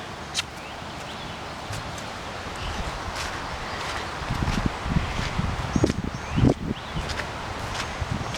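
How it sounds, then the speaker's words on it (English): Wind gusts buffet the microphone with rumbling bursts after a storm, alongside rustling grass and leaves and a few faint footsteps. "I hope the wind noise is not too bad. It is still pretty windy."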